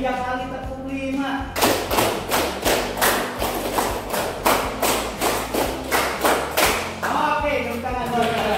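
A group of people claps a rhythmic pattern in a workshop setting, repeated sets of five sharp claps in a steady, loud, close rhythm, with some voices in the background.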